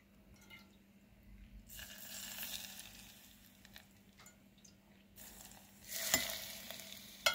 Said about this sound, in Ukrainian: Чуєте, як шкварчить?